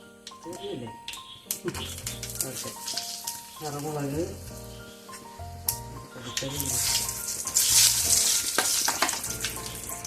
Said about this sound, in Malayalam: ഏകദേശം രണ്ട് ടേബിൾ സ്പൂണുള്ള എണ്ണ ഞാൻ ഒഴിച്ചിട്ടുണ്ട് കടുക് കൊടുക്കാം